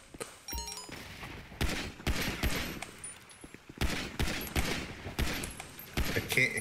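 Rapid pistol gunshots fire in a GTA V style shootout, a burst of sharp cracks followed by several spaced loud reports over about six seconds, with faint voices mixed underneath.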